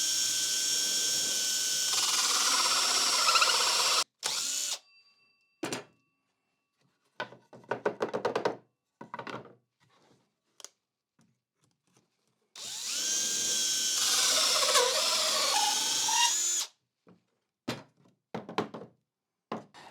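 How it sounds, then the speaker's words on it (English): A 65 millimetre hole saw on a drill cuts through a router jig base in two long, loud, steady whirring bursts, separated by clattering, rattling and knocks as the drill and workpiece are handled. "I'm going to cut my hole with a 65 millimeter hole saw."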